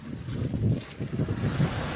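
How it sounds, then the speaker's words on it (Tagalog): Wind and sea waves along a Filipino seashore on a rainy day, a low, rumbling wash of surf with gusty wind buffeting the microphone, close and fairly loud, with no voices. "pasyal muna kami dito sa dagat."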